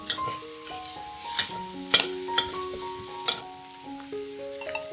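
Noodles tossed in a wok with Fujian noodle sauce sizzle steadily, punctuated by sharp scraping and clanking of the spatula against the pan, with soft background music.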